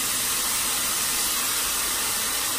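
Teriyaki sauce hits tofu in a hot pan and sizzles, giving a loud, dense, steady hiss of steam that holds without a break, with no voices over it.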